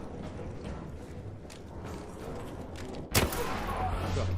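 Gunfire in the video game ARC Raiders: muffled distant shots and mechanical clatter under a noisy background, then one loud, sharp blast near the end followed by sustained rumble.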